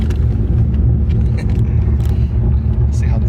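A C5 Corvette fitted with a Texas Speed cam kit drives along, its engine a deep, choppy, steady rumble heard from inside the cabin, with voices talking over it.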